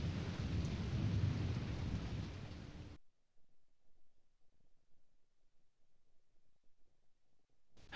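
A thunderstorm with heavy rain and a deep rolling rumble of thunder, loud and close for about three seconds before cutting abruptly to near silence.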